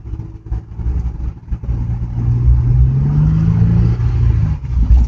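A 2004 Chevrolet Silverado with a 4L60E transmission fault revs steadily, the engine note rising and then dropping as a gear change comes through, loud and close with no talking.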